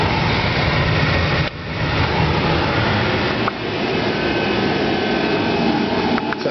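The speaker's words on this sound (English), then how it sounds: "So that power steering pump is really loud and obnoxious." A power steering pump whines and runs loud under a chugging blower fan, both powered from a small DC-DC converter; a steady, dense mechanical drone holds throughout with a brief dip partway.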